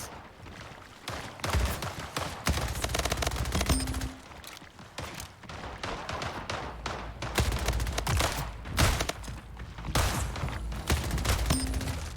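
Rapid SMG gunfire in the Splitgate arena shooter rattles out in dense, repeated bursts of shots that are loud and close, with brief gaps between volleys and game effects filling the background.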